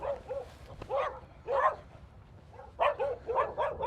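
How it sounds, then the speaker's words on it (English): Several dogs bark in short bursts as they run up toward the visitors outside an adobe garage, the barks coming in quick clusters at moderate distance with no talk over them. "Oh, the dogs see us and here they come."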